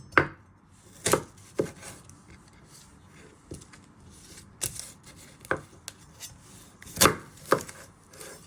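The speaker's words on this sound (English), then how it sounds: "Like to flatten it so it's more easy to chop. Then you trim your ends." An onion being chopped with a knife on a board and its ends trimmed, giving about a dozen sharp, close knife thuds at an irregular pace over a quiet room.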